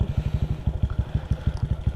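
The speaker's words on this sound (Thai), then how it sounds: "เครื่องยนต์สตาร์ท" A motorcycle engine runs close by with a rapid, even, chugging pulse that stays steady, likely just after starting.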